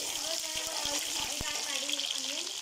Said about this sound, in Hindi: जैसे ही हमारा ऑयल गर्म हुआ है मैं इसमें प्याज ऐड करने लगा हूँ।